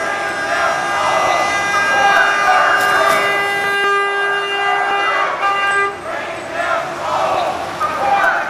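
Car horns toot repeatedly and overlapping at a street peace march to city hall, with long sustained blasts running under the crowd noise and shouting voices throughout.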